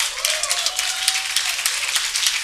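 An Inver Hills crowd at a student association flag ceremony claps and cheers steadily, a dense wash of applause with brief whistle-like tones rising through it, continuous and fairly loud for a couple of seconds.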